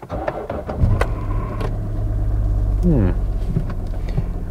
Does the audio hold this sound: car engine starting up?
yes